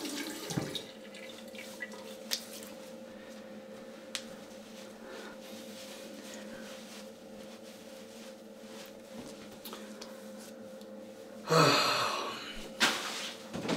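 Tap water runs briefly into a sink to rinse a razor during a wet shave with a Rockwell 6S safety razor, a short splashing burst near the end after quieter room tone.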